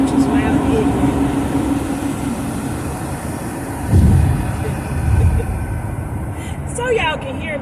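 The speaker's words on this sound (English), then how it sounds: "Get past this truck, which is loud and ignorant." A loud truck passes on the road close by, its rumbling engine swelling and fading under a person talking over the noise.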